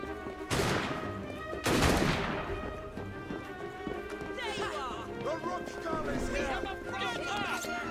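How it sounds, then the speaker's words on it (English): Gunfire in the video game Assassin's Creed Syndicate: two loud sharp bursts early on, then game music and voices carry on underneath. "Firing rounds."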